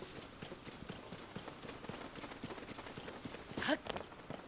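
Rain in Zelda: Tears of the Kingdom patters steadily and softly in the background, with scattered light taps and a brief louder burst near the end.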